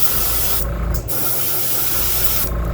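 An airbrush sprays a second coat of yellow paint onto a crawfish-pattern fishing lure, a loud close continuous hiss broken by two brief pauses.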